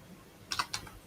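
Computer keyboard typed in a short burst of a few quick, light key clicks, close and faint against a quiet background, with no talk.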